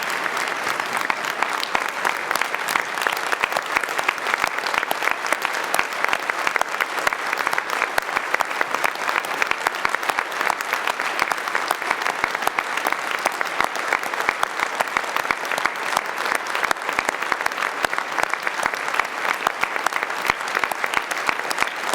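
A convention hall crowd claps steadily for Premier Horgan, dense and even applause holding at full strength for over twenty seconds with no talk.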